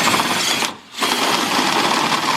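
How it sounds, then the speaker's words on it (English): A power drill whirs loudly up close, enlarging a hole in plastic, cutting out for a split second before grinding on again. "we're gonna have to drill it out a little bit bigger"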